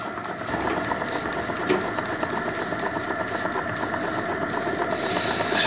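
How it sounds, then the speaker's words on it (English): A Cotswold Heritage Perseus model steam engine running smoothly, with a rapid, even mechanical chuffing and clatter repeating steadily, close and fairly loud with no talk. "You see the lovely action of this engine."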